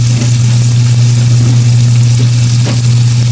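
Tomatoes sautéing in a frying pan for a bagoong isda dish, heard as a loud, steady, close sizzle with a constant low hum and no voices.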